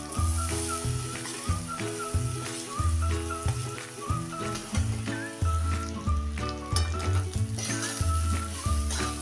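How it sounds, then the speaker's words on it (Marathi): Coarsely ground chana dal stir-fried with turmeric in a pan, a steady close sizzle under a loud background music track, no voices. "ही मोकळी केलेली डाळ आता यात ओतून एकसारखी परतायची आहे"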